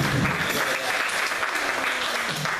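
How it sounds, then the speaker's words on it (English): Studio audience on a late-night talk show bursts into steady, dense applause that fills the whole stretch, loud and close, with faint voices mixed underneath. "And everybody clapped for that."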